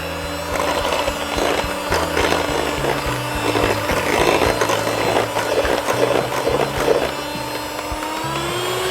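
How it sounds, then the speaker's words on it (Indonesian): Electric mixer beating egg yolks and granulated sugar at high speed until fluffy for an old-style spiku layer cake, a continuous loud whirring drone with slight shifts in pitch throughout, no voices. "ini kita mixer sampai fluffy, sampai mengembang."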